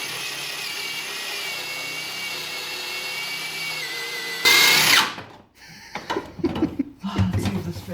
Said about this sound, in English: I got some help from a friend to drill the holes in the trunk where the frame would mount.